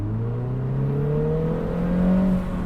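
A 2025 Mini Cooper S Convertible accelerating hard from about 40 km/h with the pedal floored, its engine drone rising slowly and steadily in pitch, heard loud from inside the cabin.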